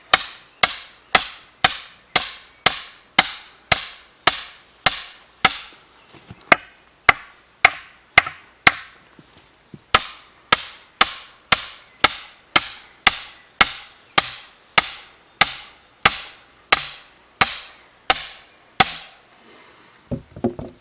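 Repeated sharp wooden knocks as chestnut wood is tapped to split it, about two blows per second in a steady rhythm with a brief pause midway, close and clear, no talking.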